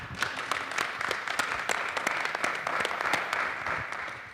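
An audience at a blockchain summit applauds in a steady, dense patter of many hands clapping at an even level, with no voices over it.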